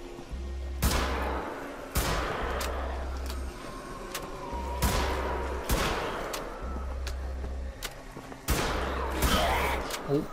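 Repeated loud gunshots from BJ's weapon in Wolfenstein: The Old Blood, about five sharp blasts spaced a couple of seconds apart over a steady low engine-like rumble.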